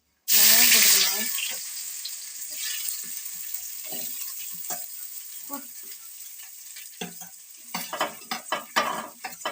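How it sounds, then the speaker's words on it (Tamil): Mustard seeds splutter and crackle in hot oil while tempering for vada curry, a loud burst of sizzling at first that settles into steady frying with scattered pops and a few utensil clinks near the end. "சூடானி கடுகு போட்டு பொரிச்சு எடுக்கலாம். கடுகு பொரியும் போது பெருஞ்சீரகம் போட்டுக்கலாம்."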